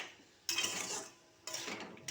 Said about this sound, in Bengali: এই দিয়ে আলুটা একটু নেড়ে